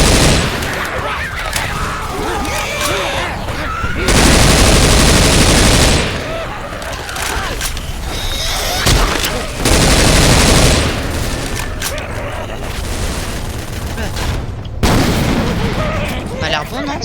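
Dense rapid gunfire and booms ring out while zombies are shot in the video game Left 4 Dead 2, loud and continuous in long bursts, with players talking over it.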